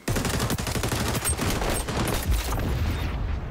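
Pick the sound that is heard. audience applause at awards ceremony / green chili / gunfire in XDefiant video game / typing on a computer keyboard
gunfire in XDefiant video game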